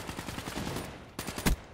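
Gunfire in a video game rattles off in a rapid automatic burst of evenly spaced shots, falls briefly quiet, then ends with a couple of sharper, louder shots close by.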